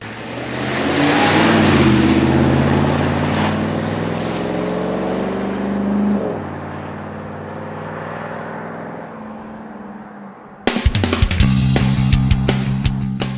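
A Ram 1500 pickup's 395-horsepower Hemi engine with all-wheel drive accelerates hard, its loud roar climbing through the gears with a dip at each shift, then dropping away before a sharp burst of closer mechanical noise near the end.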